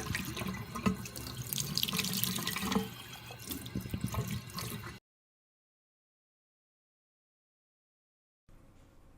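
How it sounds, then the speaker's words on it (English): Tap water runs steadily into a sink, rinsing small rocks for a mini terrarium. The splashing is loud for about five seconds, then stops into silence before a faint trickle returns. "I'm rinsing off the rocks in the sink now"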